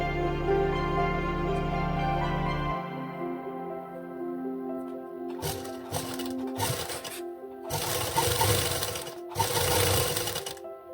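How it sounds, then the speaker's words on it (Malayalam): Sewing machine stitching the side seam of a garment lining, a low steady motor hum at first, then four short bursts of rapid needle clatter close by, with no talking. "അപ്പോൾ ലൈനിങ്ങിൻ്റെയും സൈഡ് ഭാഗം സ്റ്റിച്ച് ചെയ്ത് വെച്ചിട്ടുണ്ട് കേട്ടോ"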